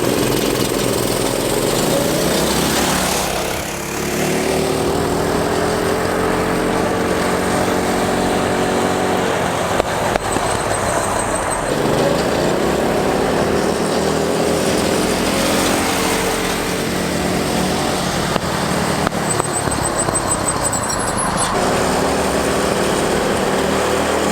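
Two identical mini bikes, one with a governor and one without, roar side by side in a drag race. A loud, continuous, raspy small-engine drone rises and falls in pitch for the whole stretch.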